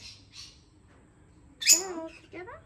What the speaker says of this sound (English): there's the mum and dad, and there's 7 of these baby birds flying around and 1 in the nest